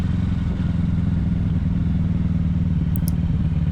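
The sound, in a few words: Kawasaki Ninja 650 motorcycle engine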